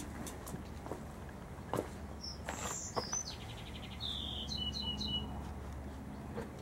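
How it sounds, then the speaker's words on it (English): Several birds chirp and trill in short bursts over a low outdoor rumble, their calls clear and fairly close. "Listen to the birds sing."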